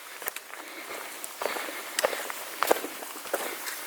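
Hikers set off on a mountain trail of 4444 stone steps, their footsteps landing in an irregular, crunching rhythm, close and moderately loud, with faint murmurs in the background.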